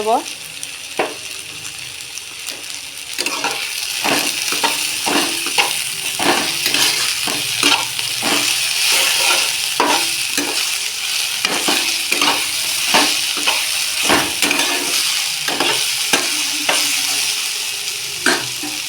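Taro leaves (kochu shak) sizzle in a hot pan while a spatula scrapes and stirs them in steady repeated strokes, a continuous close frying hiss underneath, with occasional speech.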